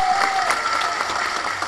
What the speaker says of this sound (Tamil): சிவா ஒரு நிமிஷம் இந்திரி, அவனுக்கு ஒரு பலத்த கரகோஷம் கொடுங்க.